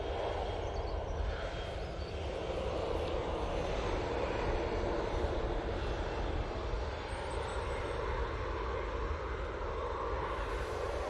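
A Lufthansa airliner at Manchester Airport produces a sustained jet roar with a strong low rumble and hiss, steady and fairly near, with no voices.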